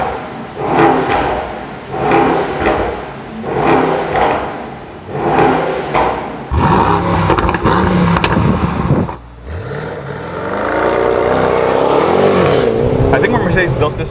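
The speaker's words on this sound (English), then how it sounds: "Now here's the exhaust for another 30 seconds," Exhaust of a Mercedes-AMG GT 63 S 4MATIC+ 4-Door Coupe revved in several loud, close bursts, then held at a sustained, rising rev with crackling toward the end.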